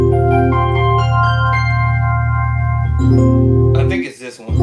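Piano chords in a quiet practice setting, rich sustained voicings held and shifted to a new chord partway through, with a brief noisy interruption near the end.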